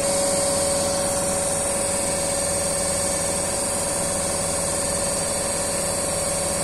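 A long-shunt compound DC generator on a TERCO lab bench runs with a steady, loud electrical hum and a constant high whine, unbroken throughout, with no speech.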